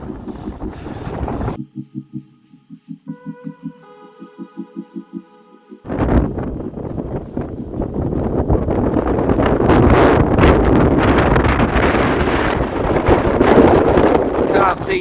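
Strong wind on a Welsh mountain summit roars across the microphone in loud, gusting rushes after a short musical interlude. A voice speaks briefly early on, before the gusts build and stay heavy to the end.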